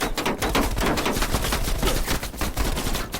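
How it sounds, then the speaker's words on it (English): Heavy machine gun fire rattles from a ridge in the Call of Duty Cold War video game, a loud, continuous rapid burst of shots with no pauses. "Heavy MG on the ridge."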